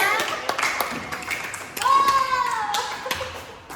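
A classroom of children claps for a student who answered a question correctly, a brief scatter of hand claps and taps mixed with kids' voices and a teacher speaking.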